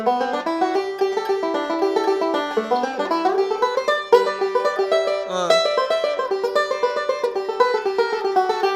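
A plucked banjo plays a quick, rolling instrumental break from "Cherokee Shuffle" of bright, rapid notes, steady and close, with no voices.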